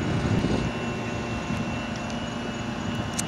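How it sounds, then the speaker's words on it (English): An airplane drones overhead, a steady low rumble with a faint tonal hum that stays constant and moderately loud throughout. "Airplane"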